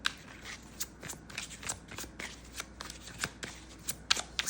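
Tarot cards riffle and slide against each other in quick, uneven bursts of crisp papery flicks, close and moderately loud with no one talking over them.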